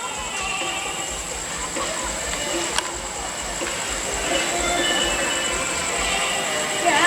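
A train rumbles steadily through Chiang Rak Noi railway station in Thailand in the early evening, with a high metallic whine and occasional clanks, mixed with background ambience.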